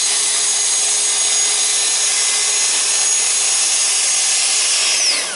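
Festool TSO GRS 16 PE track saw cutting wood with its dust extractor running, a loud, steady, continuous whine and rush of air close by with no pauses.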